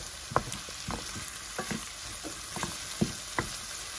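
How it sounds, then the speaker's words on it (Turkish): Garlic and mild pepper paste fry in a pan with a steady sizzle under repeated scraping and tapping of a spoon as the mixture is stirred. "Şöyle salçasını bir kavurayım."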